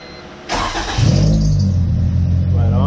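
A Honda B20 VTEC car engine catches with a sudden burst, then settles into a loud, steady, close-up running hum.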